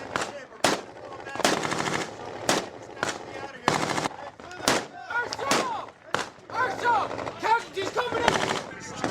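Combat gunfire aimed at a group from a lone shooter in a two-story building: repeated sharp bursts and single cracks, loud and close, with shouting voices between them.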